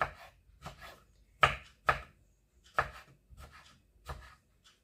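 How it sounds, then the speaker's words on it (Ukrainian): Knife chopping eggplant into small cubes on a board in separate sharp strokes, some louder than others, close by and unhurried, with no voices. "Зараз я нарізаю баклажани, нарізаю дрібненькими такими кубиками."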